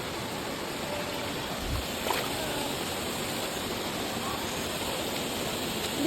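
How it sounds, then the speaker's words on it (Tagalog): Waterfall at a hidden spot in Almeria, Biliran: a steady, dense roar of rushing water, loud and close, filling the whole stretch without letup. "Look! Waterfall! Wow, waterfalls."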